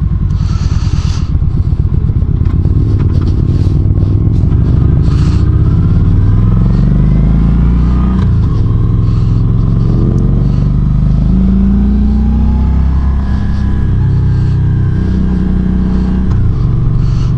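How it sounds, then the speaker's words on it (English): A Kawasaki Voyager touring motorcycle is ridden with a passenger aboard, its engine droning loud and close as it accelerates and rises in pitch through several gear changes, with wind noise underneath. "It's got power, you know, there's no doubt that this bike will move."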